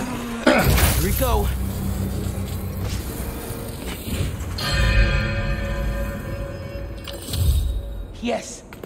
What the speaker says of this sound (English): Now to ring the bell.